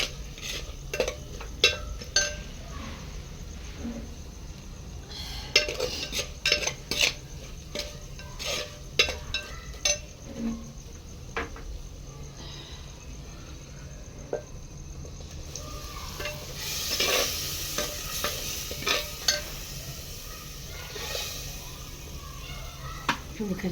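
Dal being tempered with spices in desi ghee over a clay chulha gives a faint, steady sizzle with scattered clinks and scraping stirs of a spoon against the pot.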